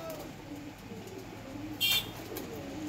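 Pigeons kept at a pigeon dealer's, soft low cooing under a faint ambient hum, with a brief brighter chirp-like burst near the end.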